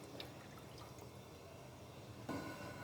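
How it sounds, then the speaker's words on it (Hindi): A little water poured into a pan while cooking fried rice, a faint trickling and dripping in a quiet kitchen, with a brief louder splash near the end. "थोड़ा सा मैंने पानी ऐड किया।"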